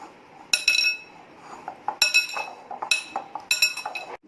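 A metal spoon clinks sharply against a bowl while buckwheat flour, potato and spices are mixed into dough, in three bright clusters of ringing taps with softer scraping between them.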